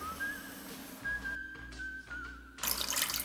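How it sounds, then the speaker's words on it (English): Water runs from a tap and is added to a pan along with salt for homemade dough. A steady faint pour sits under a thin whistling tone, then a louder, brighter splash closes the moment. "add the water and salt to a pan"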